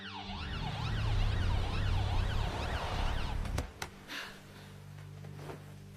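An ambulance siren wails with a rising and falling sweep over road rumble, fairly loud for about three and a half seconds before stopping abruptly, followed by a few sharp clicks.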